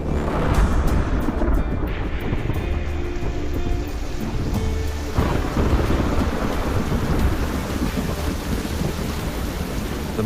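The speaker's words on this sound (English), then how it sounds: "a different storm is brewing." Heavy monsoon rain pours down in a thunderstorm on Indonesia's northern Celebes peninsula, a dense continuous hiss of downpour with low rolling thunder rumbling underneath throughout.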